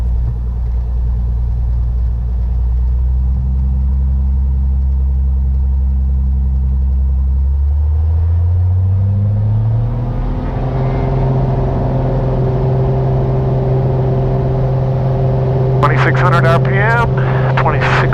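Small piston airplane engine of a Skyline aircraft taking off from runway 36, a loud droning roar that rises in pitch as power comes up, with a brief radio-like voice burst near the end.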